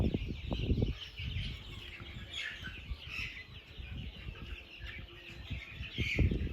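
Soft clucking and chirping from a group of 37-day-old desi chicks and hens on a farm, steady throughout with scattered low thumps and rustling nearby.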